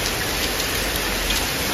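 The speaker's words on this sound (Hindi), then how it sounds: "बिन मौसम बरसात हो रहा है यहाँ" Heavy unseasonal rain mixed with hail pours down in a dense, continuous, loud hiss with no voices over it.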